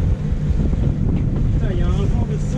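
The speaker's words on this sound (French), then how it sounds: "il y a un vent de folie là" Strong wind buffets a sailboat entering a Mediterranean harbour at Port Leucate, a steady loud roar of gusts against the microphone with water and hull noise beneath, continuous throughout.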